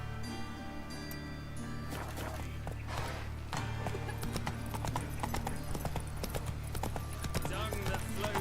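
A horse gallops in The Witcher 3, a rapid, loud clip-clop of hooves with an occasional whinny, under spoken dialogue and game sounds.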